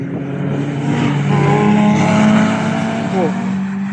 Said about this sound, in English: Those Caterhams are rowdy, but we love to hear it.